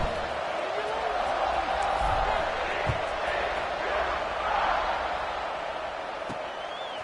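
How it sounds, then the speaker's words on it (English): A football stadium crowd buzzes with a broad, steady roar after a score, with scattered shouts and thuds in the background while an announcer talks over it. "this crowd is buzzing after that last score"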